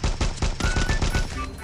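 Rapid gunfire in a video game, a quick rhythmic burst of about a dozen loud, punchy shots in close succession with no talk over it.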